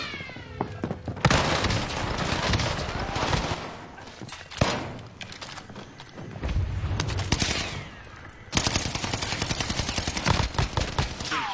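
Gunfire in an online multiplayer shooter game, an enemy firing from high up near a tower: loud dense bursts of rapid shots in several long volleys, close and harsh, with brief gaps between them.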